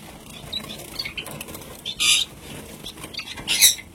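Pigeons flutter down to a water bowl, with soft scattered wing flaps and two louder, close bursts of flapping as birds land one after another.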